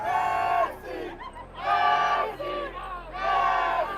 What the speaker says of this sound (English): The YouTuber even got the crowd chanting Ronaldo's name.